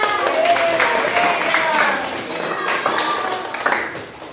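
Students in an Indonesian classroom clap their hands together in a dense, steady burst that fills the room, with voices audible underneath.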